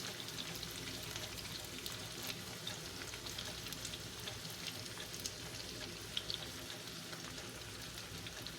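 Chopped onion frying in oil in a skillet alongside home-canned potatoes, a steady, close crackling sizzle running throughout with no talk.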